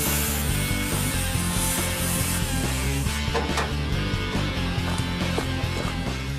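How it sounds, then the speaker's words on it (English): A metal printing press being cut up for its shafts, with loud, continuous rasping and grinding close by, its steady scraping strokes shifting partway through. "They're now cutting up a printing press for its shafts to use as axles on their"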